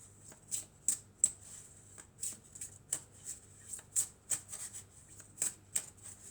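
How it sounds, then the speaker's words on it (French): Oracle cards are shuffled by hand in a close, quiet run of crisp papery riffles, about a dozen quick flicks in uneven rhythm, with no talking. "on va prendre quelques cartes de mon oracle, l'oracle d'Annabella"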